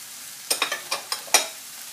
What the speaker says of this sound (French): Je vais remettre mes oignons.